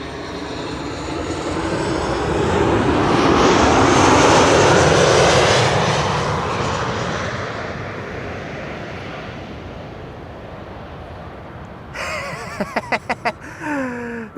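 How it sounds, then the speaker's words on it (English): Tarom flight 361 from Bucharest lands on the arrivals runway at Amsterdam Schiphol, its engine roar swelling to a loud peak, then fading into a long rumble, with a brief burst of chirpy electronic noise near the end. "And this is the arrival of Tarom flight 361."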